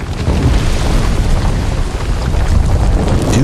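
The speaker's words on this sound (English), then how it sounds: "Due to the explosion," A loud, rumbling explosion roars continuously with crackling debris and a deep low boom throughout, no voices.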